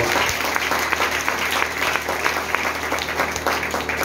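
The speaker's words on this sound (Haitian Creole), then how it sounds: "Applaudis encore une fois." A crowd at a church jubilee gathering claps in dense, sustained applause, loud and close throughout, with the clapping steady from start to finish.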